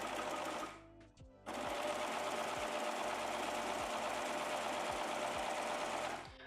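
Domestic sewing machine stitching swimwear elastic, a dense rapid mechanical whir that briefly slows and pauses near the start, then runs steadily at close range.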